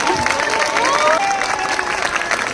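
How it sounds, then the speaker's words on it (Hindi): Audience applause at a school alumni reunion event, with clapping mixed with crowd chatter and a few whoops and rising voices over the hall. "तालियां तालियां"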